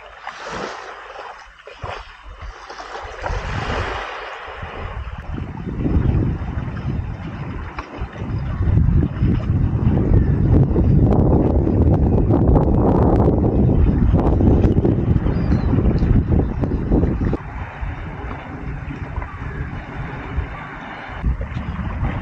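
Sea and wind along the Oslo Fjord at the edge of the city just before sunrise: a broad, rumbling wash of waves and gusting air pressing against the microphone, rising in the middle and then holding steady.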